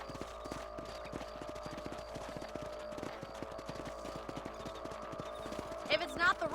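Horse hooves clip-clop steadily at a trot through a Western ranch in Red Dead Redemption, a continuous rhythmic patter with a whinny-like burst near the end.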